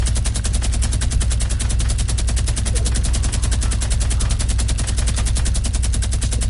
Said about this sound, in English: You can take them out with the minigun if you feel like it.